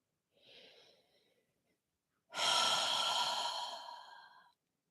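A slow breath through the nose during a beginner Pilates class, a soft faint inhale followed by a longer, louder airy exhale like a sigh, close and alone.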